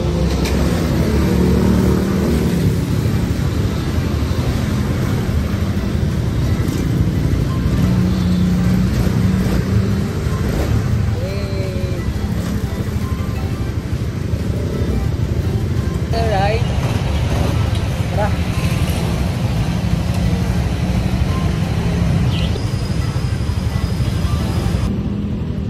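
A new Raider motorcycle on its first ride after a full tank, its engine and road rush forming a loud, steady roar through the whole stretch, with a voice now and then above it.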